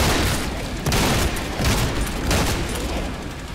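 A grenade blast in the first-person shooter Trepang2, heard as a dense, loud rumbling barrage of booms and crackling bursts that keeps going for a few seconds with no gaps.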